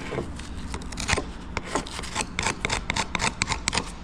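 A flathead screwdriver scrapes and rasps across a regular concrete surface in a durability test, giving a series of gritty, uneven scratching strokes, close and fairly loud, with no talking.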